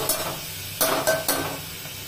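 Varai millet roasting in ghee in a pan, giving a soft steady sizzle with a few brief louder scraping stirs, close and alone without talk.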